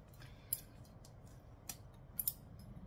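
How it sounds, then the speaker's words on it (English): Scissors snip off the excess end of a zipper while sewing a saddle bag, a few quiet, sharp cutting clicks in a near-silent room. "I'm also going to trim off my extra little bit of zipper"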